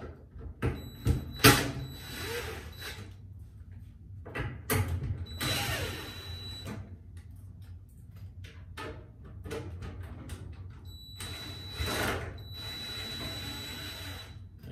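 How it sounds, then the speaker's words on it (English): Screws backed out of the front panel of a Samsung dryer: bursts of ratcheting, creaking driver work and clicks come in several short spells separated by quieter handling noise, close by. "we're going to take out 3 more screws"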